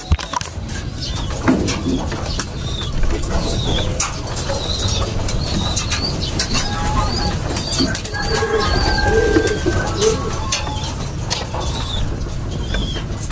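Racing pigeons coo softly in a loft, with a few wing flaps and faint chirps over a constant low hum of traffic.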